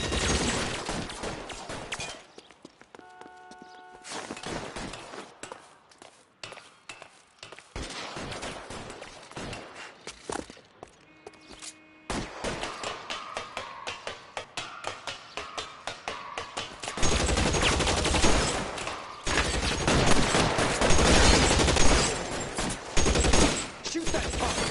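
Dense video-game gunfire from L.A. Noire, with rapid bursts and scattered single shots throughout, growing heavier and louder toward the end, while a voice speaks briefly in the background.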